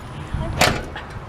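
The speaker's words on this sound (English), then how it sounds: "He shut the door." A car door is shut once with a sharp, close thud that rings briefly, preceded by a softer bump.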